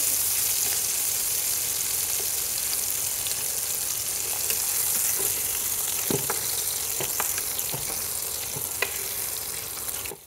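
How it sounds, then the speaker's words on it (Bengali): Shrimp frying in hot oil in a pan, a loud continuous close-up sizzle with occasional crackles and pops throughout, no voices. "চিংড়িটাকে ভেজে নেওয়া হয়ে গেছে, এখন আমি তুলে নিচ্ছি।"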